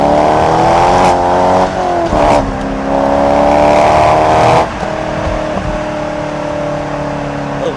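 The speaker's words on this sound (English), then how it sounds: "Let's do a pull in this car real quick" A Corvette Z06 with an aftermarket exhaust accelerates hard through several gears, each pull rising in pitch before a quick shift drop, loud and close from inside the car.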